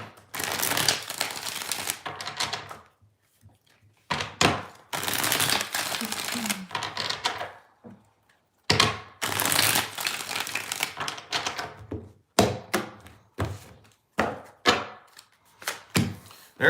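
Tarot cards are riffle-shuffled again and again in quick bursts with brief pauses between, close by, and a voice speaks softly now and then.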